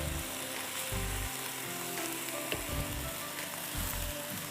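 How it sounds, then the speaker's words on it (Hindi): Rice tikka stir-frying in a hot pan, a constant close sizzle with crackling and the scrape of stirring, steady throughout with no voices. "जब तक मैं इसको स्टर कर रही हूँ बस स्टर फ्राई करना है आपने इसको"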